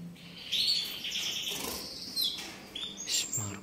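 Caged birds, a female and a male, chirp in bright, high bursts and twittering trills, close and clear, with a brief flutter of wings and no voices.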